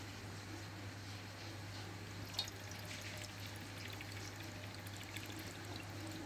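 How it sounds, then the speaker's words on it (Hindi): Water poured into a pan for sweet chutney, about a cup, makes a steady, faint, continuous stream with a low hum in the background and no talking. "एक कप के करीब पानी डाला"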